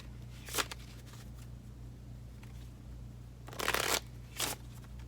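A deck of playing cards shuffled at a tiny tabletop, three short riffling bursts, the last two close together, over a low steady hum in a quiet room.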